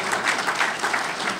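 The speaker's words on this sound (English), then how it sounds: "And you guys can all applaud that." An audience applauds at a talk by the Chicago Cubs chairman, a dense, even clatter of clapping hands filling the room for a short burst.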